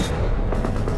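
A single sniper rifle shot in a WWII-era duel between a Russian and a German sniper: one loud, sharp report at the very start that decays into a long, rumbling boom filling the rest of the second.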